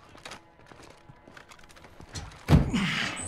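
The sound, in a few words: crate being opened in Call of Duty Modern Warfare 2 video game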